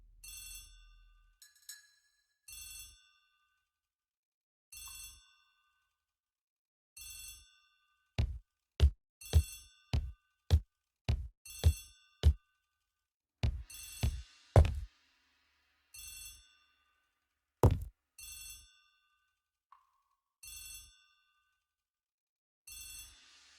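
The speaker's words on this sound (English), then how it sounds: "The telephone in the hall is ringing." A telephone in a hall rings in repeated short bursts at a regular rhythm, with louder sharp knocks or footsteps interspersed in the middle; no speech.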